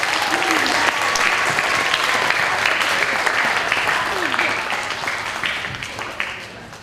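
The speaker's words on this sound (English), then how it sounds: "Everybody give them a round of applause." Steady applause from a sizable elementary school morning assembly audience, loud and sustained, gradually tapering off toward the end, with a voice briefly audible over it.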